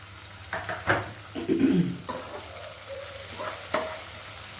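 Capsicum sautéing in a hot pan for dragon chicken, with a steady sizzle and a few louder scraping stirs of the spatula across the pan, close and clear with no talking.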